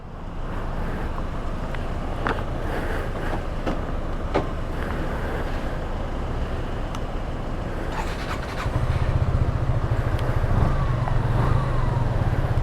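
A Suzuki SF 155 motorcycle on a test ride, heard as a steady engine drone with heavy wind rush across the microphone, growing slightly louder and rougher toward the end.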